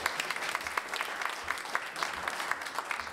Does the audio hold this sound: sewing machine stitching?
no